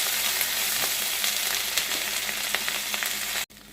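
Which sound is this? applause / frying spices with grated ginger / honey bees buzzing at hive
frying spices with grated ginger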